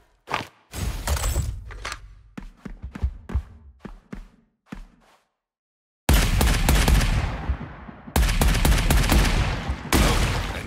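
Assault rifle fire in a video game, several loud close bursts of rapid automatic shots with shattering impacts, split by short gaps and a brief silence, with no talking.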